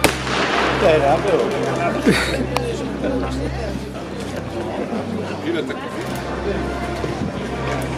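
Sharp firework bangs crack out over a crowd of chattering voices at a New Year celebration in Gdańsk, with a couple of loud pops standing out early amid constant outdoor noise.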